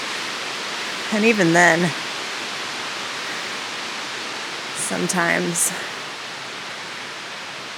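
Steady running water hisses throughout, broad and constant, while a person speaks briefly twice over it.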